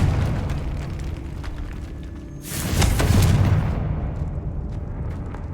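A fire-blasting Confringo spell bursts in a video game, a single loud explosive boom partway through that rumbles and fades over a low ambient hum.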